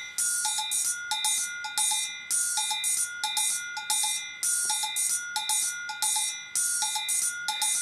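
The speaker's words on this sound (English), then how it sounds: "Then we've also got the hi-hat and the bells." An electric drum kit plays hi-hat and bell tones in a steady repeating pattern of bright metallic hits with ringing pitched overtones, close and clear over nearly eight seconds, with nobody speaking.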